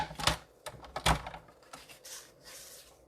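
Paper trimmer cutting cardstock, a few sharp clicks and thuds followed by a quick scraping slide of the blade, close and moderately loud.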